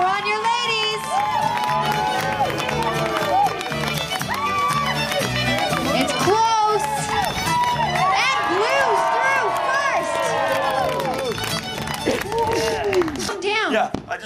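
A crowd cheers and shouts continuously for a women's heat at a lumberjack competition in Vancouver, British Columbia, a dense, loud roar of voices with whoops layered throughout.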